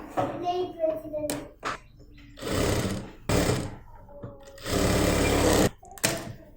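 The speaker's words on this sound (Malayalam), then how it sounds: "ഈ തുണിയുടെയും നല്ല വശം ഇതുപോലെ അറ്റാച്ച് ചെയ്തിട്ട് 1/2 ഇഞ്ചിൽ നമുക്ക് സ്റ്റിച്ച് ചെയ്ത് കൊടുക്കാം" A sewing machine stitches churidar fabric in several loud bursts of rapid mechanical whirring, each lasting about a second, separated by pauses, with someone speaking between the runs.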